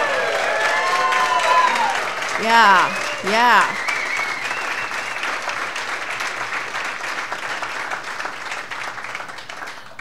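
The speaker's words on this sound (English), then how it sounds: "Can we have another, round of cheering for 40 years?" Audience in a bar at a poetry press's 40th-anniversary benefit birthday party applauds and cheers, a dense, loud wash of clapping with whoops rising over it while voices shout briefly near the start.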